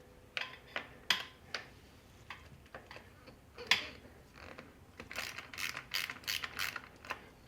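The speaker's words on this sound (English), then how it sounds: "go ahead and loosen up the brake bracket there. Loosen both the top and the bottom" Ratcheting clicks from a wrench loosening the top and bottom brake bracket bolts on a bicycle's SRAM G2 brake, sounding as irregular close bursts of quick ticks with short pauses between them, no voices.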